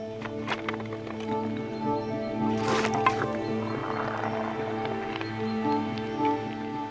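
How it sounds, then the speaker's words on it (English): Quicklime slaking in water as it turns into lime putty on a Tudor farm, giving a steady soft hissing, bubbling fizz with one brief louder burst of bubbling, over a low background hum. "This is the chemical reaction that's heating up this water, and you can hear it"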